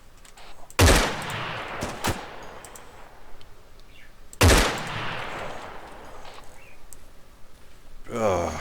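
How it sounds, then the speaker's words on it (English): Gunfire in a video game military operation, with two loud, ringing shots or impacts several seconds apart, a smaller crack between them and quieter background noise and voices. "Mark, we're under fire"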